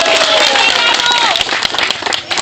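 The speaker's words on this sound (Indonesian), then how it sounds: "Tepuk tangan untuk Pak Rifki" A crowd claps at a Partai Demokrat campaign rally in Kecamatan Samatiga for a candidate, with loud, close, dense applause and crowd noise that thins out toward the end.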